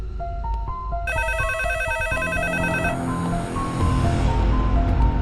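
A telephone rings in a film scene with a bright, repeating electronic tone over steady background rumble, then the ringing shifts and fades into noise.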